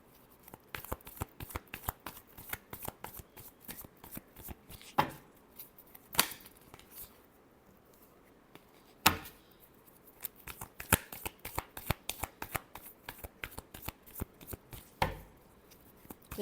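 Tarot cards are shuffled by hand in a series of quick, crisp riffling bursts, several sharper slaps standing out over sixteen seconds, fairly close with no talk.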